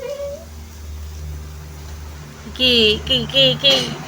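A small kitten meowing close by, giving several short, high, plaintive mews in quick succession after a quieter stretch of low background hum.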